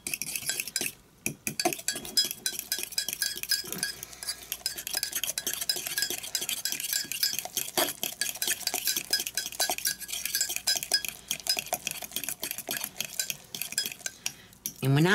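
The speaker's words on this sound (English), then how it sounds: "And now it says to mix this really well." A spoon stirring keto chocolate mug cake batter with an egg in a mug, rapid clinking and scraping strokes, close and continuous throughout.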